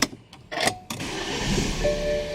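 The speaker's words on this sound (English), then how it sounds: "car starts right up" A car engine cranks and catches after a few short clicks, then settles into a steady idle with a thin whine, heard up close; the car's signal wire from the passenger door handle has been pulled from its connector.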